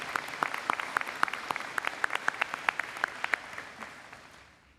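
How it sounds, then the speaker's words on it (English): Applause rises at a Niagara College convocation for graduates' families and friends, with crisp, distinct claps from a nearby clapper standing out over the crowd before everything tapers off. "Please join me in a round of applause to show our thanks and appreciation."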